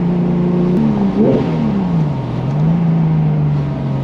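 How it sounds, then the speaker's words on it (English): A 20-year-old 3.6-litre car engine revs up sharply, its pitch climbing and then settling into a steady rumbling drone, loud and close, with no talking. "It just revs so quick. It sounds so snappy"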